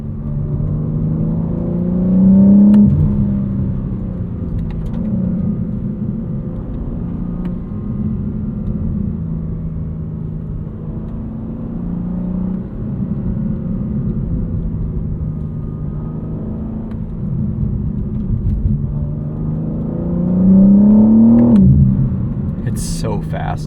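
A 2025 BMW M4 CS (G82) accelerates from inside the cabin with a steady low engine drone, two brief rising revs near the start and end, under continuous talk.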